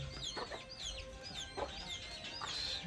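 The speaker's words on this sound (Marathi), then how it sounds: "कोंबडी बघा किती चरायला आल्यात" Hens cluck repeatedly while foraging in a village field, the short calls close and fairly clear over a quiet outdoor background.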